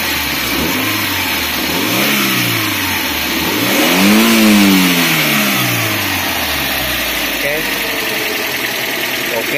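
A Suzuki APV engine revs up and down in several rising and falling swells over a steady idle, loud and close, with someone talking over it.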